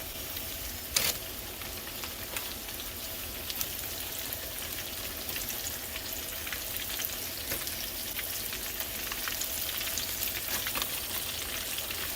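Thin bluegill fillets frying in hot oil in a pan, a dense, steady crackling sizzle that holds close and loud throughout, with a few sharper pops.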